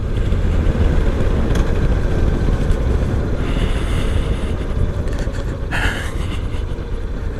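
A Honda motorcycle rides a rough, crumbling stretch of Highway 17 through a wildlife refuge, its engine a steady loud rumble buried under constant wind roar, with a brief rise in pitch near the end as it downshifts.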